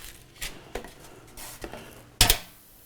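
A T-bone steak dropped into a preheated Cook's Essentials air fryer basket, with a few light metallic clatters and taps and then one sharper, louder clank near the end.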